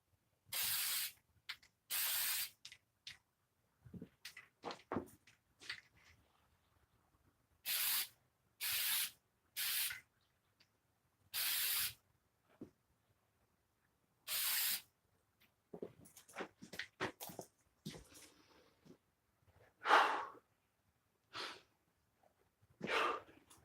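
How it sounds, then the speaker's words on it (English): Short, loud bursts of aerosol spray paint hiss repeatedly across a clawfoot tub being custom painted, separated by brief pauses with faint breathing and handling noises between them. "Again, you got to spray this stuff quick,"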